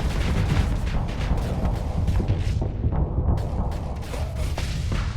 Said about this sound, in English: that is a really long-range plasma cannon